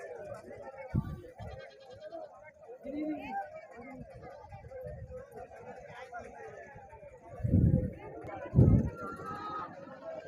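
At a weekly rural livestock market, Nellore-cross sheep give a couple of loud bleats near the end, set against a background of crowd chatter and someone talking nearby.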